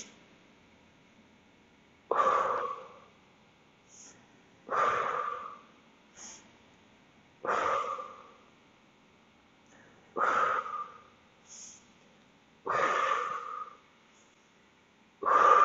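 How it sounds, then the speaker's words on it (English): During a workout, a person breathes heavily, close to the microphone, in about six forceful exhale bursts at regular intervals, with fainter breaths between them. "I hear you breathing."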